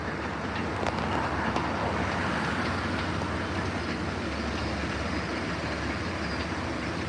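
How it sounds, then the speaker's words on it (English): An MBTA train rolls into the interlocking at Cabot Yard, a steady, fairly distant rumble of wheels and rail noise that holds evenly throughout with faint clicks over the tracks. "And we have another train entering the interlocking."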